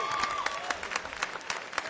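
A commencement address audience breaks into applause, dense continuous clapping with scattered sharper claps, steady and fairly loud throughout, with no speech over it.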